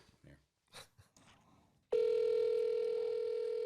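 Telephone dial tone on an outgoing call: a loud, steady continuous tone that starts abruptly midway and holds without a break, following a few short bursts of quiet talk and handling noise.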